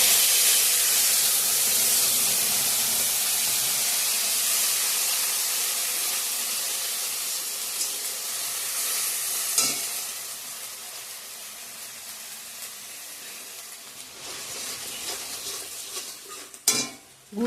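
Ground spices and tomato paste fry in a pan while a Bengali paneer and potato dish is cooked, giving a loud, steady sizzle with a few clinks of stirring near the end.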